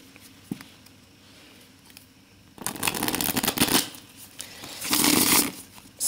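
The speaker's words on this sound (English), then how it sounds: "Let's have a little riffle." Two bursts of tarot cards being riffle shuffled, a fast fluttering patter close by, following a quiet stretch with a faint tap.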